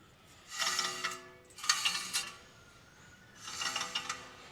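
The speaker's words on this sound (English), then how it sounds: "Rubs the backing plate." Faint scraping rub from a 1969 Camaro brake drum against its backing plate, coming in three distinct rasping pulses separated by quiet gaps, close up.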